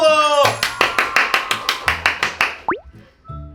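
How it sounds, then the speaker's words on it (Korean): After a brief voice, about eleven crisp, evenly spaced hand claps ring out loud and close, followed by a quick rising cartoon-like sound effect and a short low tail. "박수!"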